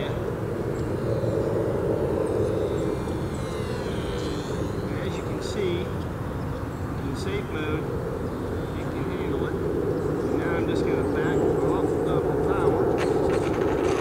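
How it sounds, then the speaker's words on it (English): HobbyZone Duet S 2 beginner RC plane flying overhead, its small electric motor giving a steady buzzing drone that swells and fades as it passes and throttles back, with voices talking over it throughout. "I simply back off the throttle slowly until it settles into the ground."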